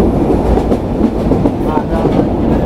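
The Rupsha Express from Khulna rolls into Darshana Halt station with a loud, continuous rumble and rhythmic wheel clatter on the rails, heard from on board.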